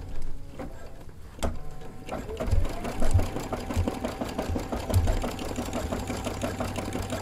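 Sewing and embroidery machine couching yarn onto fabric, its motor running in a steady, close mechanical whir with rhythmic needle knocks throughout.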